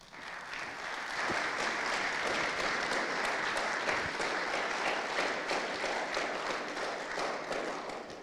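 Audience applause at a club general meeting and AGM, steady sustained clapping from a crowd filling the room for about eight seconds, dense and even with no talk over it.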